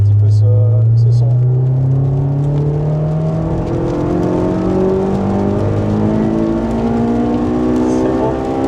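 Honda S2000 Type R engine revving and accelerating, a loud, close, continuous roar whose pitch climbs steadily through the gears, with brief faint noises near the start.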